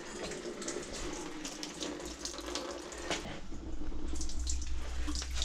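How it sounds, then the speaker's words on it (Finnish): Water pouring and splashing steadily from a GMC Suburban 6.5 turbo diesel engine with cracked heads in a garage, a continuous running-tap rush that grows louder and heavier toward the end. "Perkele, kun sieltä tulee joka paikasta tuota vettä."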